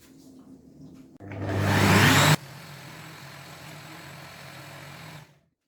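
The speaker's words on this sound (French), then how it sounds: "on va laisser mixer, bien mélanger pour bien incorporer cette farine et avoir une pâte bien homogène" An electric hand mixer whirs loudly for about a second as it works flour into cake batter, then drops to a steadier, quieter motor drone that runs for a few seconds before cutting off.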